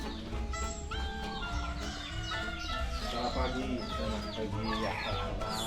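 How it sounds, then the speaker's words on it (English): Chickens cluck steadily amid a dense chorus of chirping caged birds in Ubud, Bali, with a faint murmur of voices in the background. "All the noises you hear are from chickens and the birds in the bird cages here."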